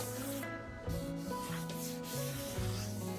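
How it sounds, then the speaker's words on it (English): Steady rubbing and scraping of sandpaper on Bondo body filler on a 1974 Chevrolet Suburban, with continuous back-and-forth strokes, close and moderately loud, no voices. "we're gonna start sanding off up there"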